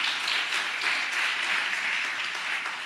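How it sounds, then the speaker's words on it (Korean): A church congregation claps in praise during a Sabbath service, a dense, steady wash of many hands filling the room for a few seconds without speech. "하나님께 영광의 박수 올리는 거예요."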